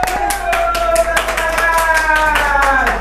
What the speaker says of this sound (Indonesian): Hore, berikan tepuk tangan buat Ebi Rista.